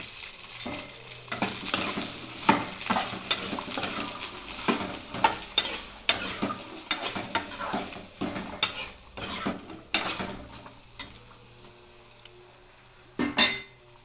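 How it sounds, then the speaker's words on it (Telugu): Sliced okra fries in a little oil in a pan, a steady sizzle broken by repeated sharp scrapes and clinks of a stirring spoon against the metal, close and fairly loud. "కొంచెం ఆయిల్ వేసుకొని వేపుకుందామండి"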